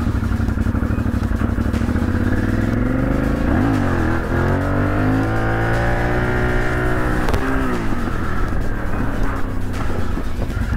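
A large motorcycle's engine revs steadily while riding, its pitch rising and falling through gear changes, loud and continuous throughout with no talk over it.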